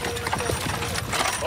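Horses trotting at an outdoor carriage event in Friesland, a busy run of hoof clip-clops blended with crowd noise and shouting voices.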